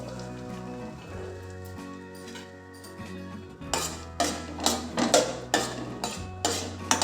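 Soaked sabudana is roasted in ghee in a pan, with a low steady sizzle giving way to a run of close, rhythmic scraping and tapping stirring strokes, no talk.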